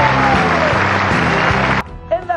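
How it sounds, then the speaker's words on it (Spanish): Studio audience on a Colombian morning TV show applauding loudly and continuously for close to two seconds, then cutting off as a voice speaks. "un aplauso para Rastrojo que está..."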